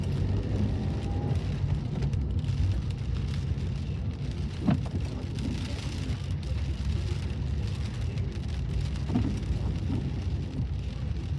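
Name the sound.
rain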